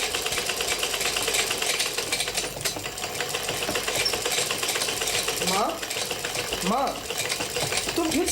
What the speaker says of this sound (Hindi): तुम फिर सिलाई करने बैठ गई?